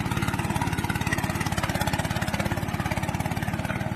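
A homemade desi tractor with a 750 cc engine runs with a steady, rapid, pulsing chug, loud and close throughout with no voices.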